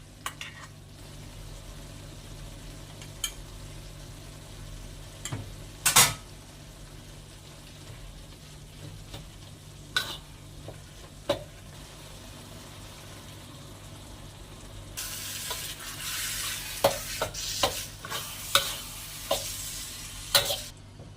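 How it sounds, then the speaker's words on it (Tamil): Ground lentil usili stirred in a pan, heard as faint, scattered spatula scrapes over a low background, with a soft sizzle rising and growing busier toward the end; no talking. "இந்த மாதிரி கைவிடாம இதை கிண்டிக்கிட்டே இருக்கணும்"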